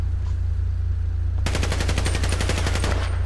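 Rapid automatic gunfire from an OBM gun in the GTA RP video game, a single fast burst of about two dozen evenly spaced shots over a constant low background hum.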